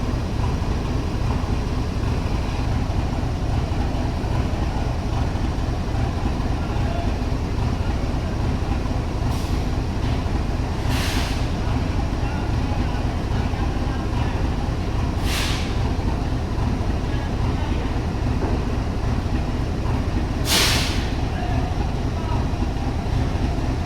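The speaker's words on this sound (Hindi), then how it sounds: "ग्रीन लाइन पाकिस्तान रेलवे की सबसे बेहतरीन और प्रीमियम ट्रेन" Pakistan Railways Green Line premium passenger train running from Islamabad to Karachi, a steady loud rumble of wheels on track heard from on board, with a few short hissing bursts partway through.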